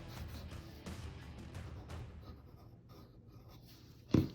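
Pencil sketching lines on paper for a Thanos drawing, soft scratchy strokes in an uneven rhythm, close and quiet, ending in a brief louder knock.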